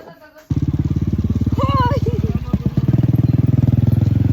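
A motorcycle engine catches and settles into a loud, rapid, pulsing putter close by, running steadily while a voice speaks over it.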